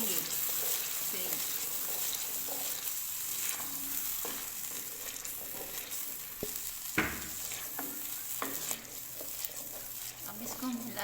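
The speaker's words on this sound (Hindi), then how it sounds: "ये अब इसको हम भूनेंगे फिर।" An eggplant and egg bharta mixture fries in a pan with a steady sizzle, broken by occasional scrapes and clinks as it is stirred, while someone talks over the cooking.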